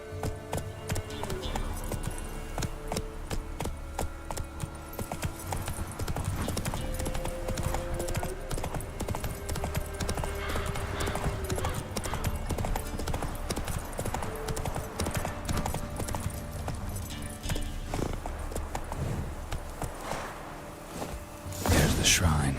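Roach the horse gallops in Witcher 3, quick loud rhythmic hoofbeats pounding steadily close by, with occasional creaks and a sharp thud near the end.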